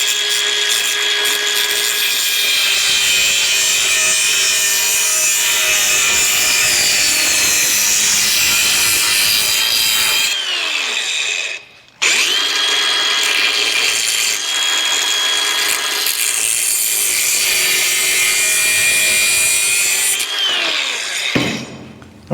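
A power tool cuts a piece down to size while fabricating on a 1956 Chevy truck. A steady, loud grinding whine runs for about ten seconds, stops briefly, then resumes for another long stretch before cutting out.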